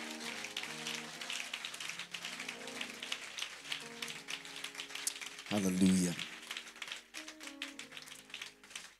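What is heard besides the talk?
congregation clapping in praise at a church conference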